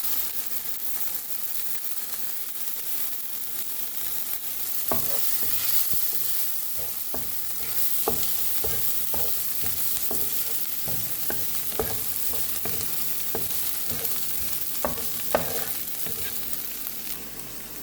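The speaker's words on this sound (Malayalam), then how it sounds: "ചെറുതായിട്ടൊന്ന് ബ്രൗൺ കളർ ആകുന്ന വരെ നമുക്കിങ്ങനെ ഇളക്കി കൊടുക്കാം." Onions frying in a pan for a paneer tikka masala wrap are stirred steadily, scraping spoon strokes clicking repeatedly over a constant close sizzle.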